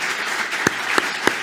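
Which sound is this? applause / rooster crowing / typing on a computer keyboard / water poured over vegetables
applause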